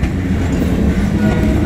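A train rumbles past close by at a level crossing, heavy low rolling noise with a rhythmic clatter of wheels on rails.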